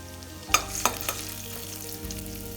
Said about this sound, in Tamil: இப்போ நெய் சூடாயிடுச்சுங்க பொடியாக நறுக்குன இஞ்சி சேர்த்துக்கலாம்